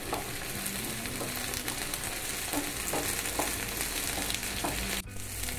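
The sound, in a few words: okra and onion pieces frying in oil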